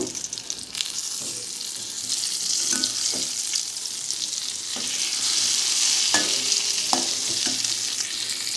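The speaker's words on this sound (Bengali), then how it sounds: "গ্যাস কমিয়ে রেখে 2 মিনিট ভেজে নিয়ে তারপর আরেক দিকটা উল্টে দেব।" Eggplant slices for masala begun fry crackle in a pan over a low gas flame, giving a steady close sizzle with a few sharp clicks from stirring or turning.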